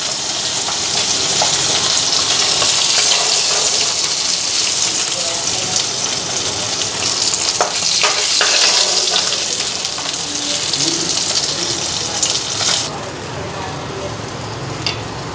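Koi fish fry in oil with a loud, continuous crackling sizzle that fades near the end, while a voice talks over it.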